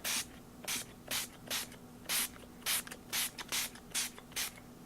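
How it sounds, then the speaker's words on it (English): Short bursts of Tattered Angels Glimmer Mist sprayed from a pump bottle, about a dozen quick hissing spritzes in an uneven rhythm, close by, with a faint steady hum underneath. "And I'm simply just spraying it on."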